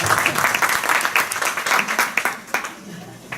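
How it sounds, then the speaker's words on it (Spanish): Lively audience applause for a participant at a talk on creativity, many hands clapping fairly close and dense, with a few voices mixed in as the clapping tapers slightly toward the end. "Oye, un aplauso."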